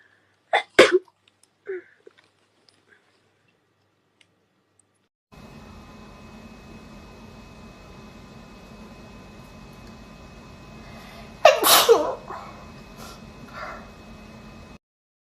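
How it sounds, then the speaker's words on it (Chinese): A woman sneezes wetly and loudly from close by, with a few small sharp sneezes early on, then a steady hum of room noise before one big forceful sneeze followed by sniffles. "要打喷嚏。"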